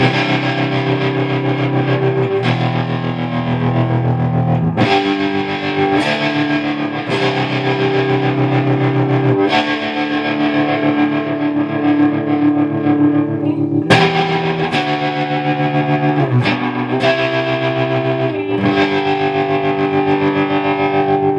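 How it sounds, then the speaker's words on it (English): Electric guitar played through an overdrive pedal and a Voodoo Labs tremolo pedal, with a Spaceman Effects Aphelion in the chain: a loud, distorted chord riff with pulsing tremolo, sustained strums changing every couple of seconds, no talk. "Now the overdrive and tremolo."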